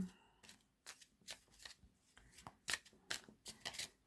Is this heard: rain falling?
no